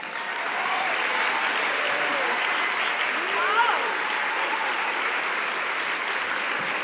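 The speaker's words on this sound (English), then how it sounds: "Please give her some love and a warm welcome of applause," A conference audience applauds to welcome the new board chair to the stage, a sustained even wall of clapping from a large room, rising quickly and holding steady, with faint voices beneath.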